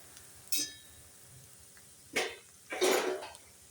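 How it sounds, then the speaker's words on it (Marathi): A metal lid set onto an iron kadai over low gas heat in a home kitchen, giving three separate clanks and rattles, the last longer and louder, with no talking. "याच्यावर आपण झाकण ठेवणार आहे."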